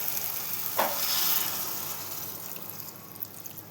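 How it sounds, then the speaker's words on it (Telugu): Water is poured into a potato and capsicum curry in a hot pan, giving a brief loud hissing splash followed by a fading, bubbling sizzle that settles into a quiet simmer, with no voices. "మనం కర్రీ అనుకున్నాం కాబట్టి ఇందులో కొంచెం వాటర్ యాడ్ చేద్దాం."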